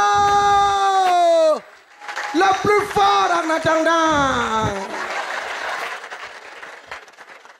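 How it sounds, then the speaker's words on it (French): A stand-up comedy audience breaks into applause and cheering after speech, the crowd noise rising loudly then fading over several seconds while someone talks over and after it. "Applaudissez pour l'intello!"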